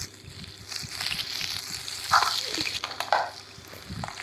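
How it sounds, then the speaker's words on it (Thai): Food fries in a pan with a continuous crackling sizzle, scattered sharper pops and occasional stirring or scraping, close by and fairly loud. "ต่อมาก็ทอด"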